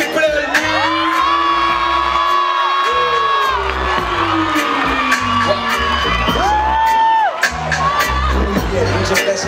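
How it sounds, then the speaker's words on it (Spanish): A large crowd at a live music show cheers and whoops loudly, with shouting voices and music playing underneath throughout. "Yo quiero escuchar un fuerte aplauso"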